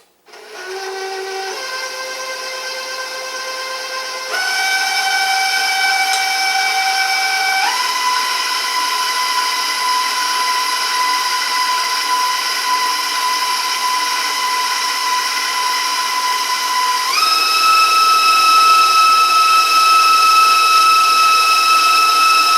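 A kitchen mixer beats molasses cookie dough in a steady, loud mechanical whine that jumps higher in pitch at each speed change, running alone without talk.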